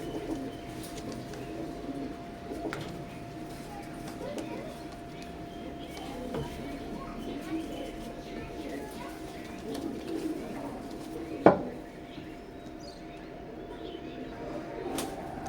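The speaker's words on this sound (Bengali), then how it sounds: "স্ক্রিনে এখন যে কবুতর জোড়া দেখতে পাচ্ছেন এটাও মানে এক জোড়া ব্রিডার কবুতর।" A pair of breeder pigeons, imported Oman bloodline teddy pigeons, coo softly in a steady low murmur that runs throughout, with a sharp click near the end.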